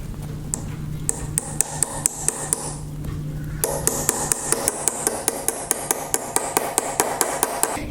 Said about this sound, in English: All you need is a hammer to do this